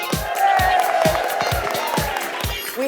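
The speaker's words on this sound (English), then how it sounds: "I think that deserves a cheer." An audience at the 2019 NHFT Wellbeing Festival cheers and claps, a steady wash of crowd noise with scattered whoops and regular low thumps running under it for about three seconds.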